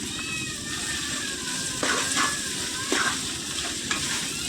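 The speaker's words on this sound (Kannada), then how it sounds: "ಈ ರೀತಿಯಾಗಿ 1-2 ನಿಮಿಷಕ್ಕೂ ಈ ರೀತಿ ಚೆನ್ನಾಗಿ ಫ್ರೈ ಮಾಡ್ಕೊಳ್ತಾ ಇರಬೇಕು." Vegetables for fried rice, salted, stir-fried in a pan: a steady close sizzle with a few louder spatula scrapes and tosses every second or so.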